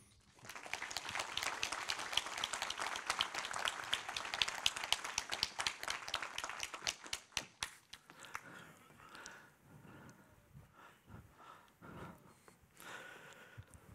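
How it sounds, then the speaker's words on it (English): Audience applause welcoming a speaker at an architecture lecture, many hands clapping steadily for about seven seconds, then thinning to scattered last claps and quiet room sound. "So please welcome and give him a big amount of applause, Mr. Dietmar Eberle."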